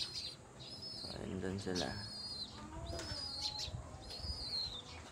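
Hungry pet pigeons coo repeatedly, soft rolling calls close by, with a few higher chirps and someone briefly talking over them.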